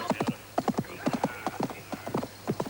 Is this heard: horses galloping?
yes